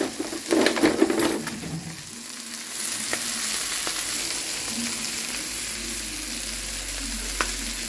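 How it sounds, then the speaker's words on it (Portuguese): Food sautéing with pepper and cumin in a pan gives a steady, close sizzle and frying hiss, with a few stirring scrapes and clatters near the start, continuing evenly to the end without speech. "Deixa eu refogando um pouquinho."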